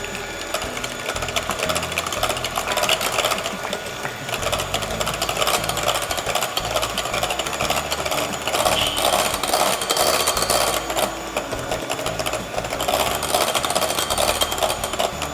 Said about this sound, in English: Now I've got 2 cups of whipping cream here, and I'm going to put it in here and beat it.